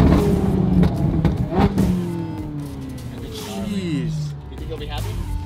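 Ferrari Italia with a rebuilt flat-crank engine revving hard in repeated bursts, rising and falling pitch sweeps close by, with people talking excitedly over it.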